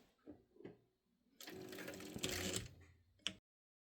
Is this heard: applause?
no